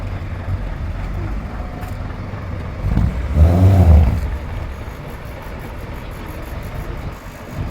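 A 1980s Leyland bus from Merseyside Transport arrives at a vintage bus rally, its diesel engine rumbling steadily before a louder, closer surge of revving at mid-clip that settles back to an idling drone.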